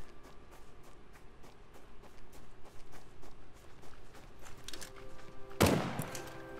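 Rapid bursts of gunfire in the video game The Front pop repeatedly, ending in a louder, closer blast near the end, with faint footsteps underneath.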